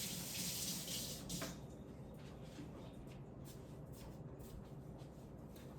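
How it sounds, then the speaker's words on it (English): Tap water runs steadily into a kitchen sink while hands are washed between seasoning cornbread dressing with sage and black pepper, a close, continuous splashing hiss that eases slightly after the first second or so. "Washing my hands."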